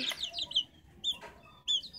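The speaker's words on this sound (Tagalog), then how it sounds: "Mga sisiw oh." Young chicks peep in quick, high-pitched bursts close by, a cluster of rapid chirps followed by two shorter calls after brief pauses.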